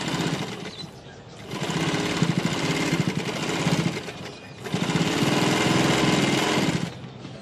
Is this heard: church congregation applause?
no